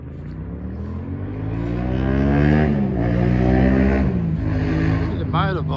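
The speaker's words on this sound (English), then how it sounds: "The motorbikes are a noisy muffler." Motorbike with a noisy muffler passing near a suburban sports oval, its engine rising in a loud harmonic roar that sweeps up and down in pitch, with another vehicle whine near the end.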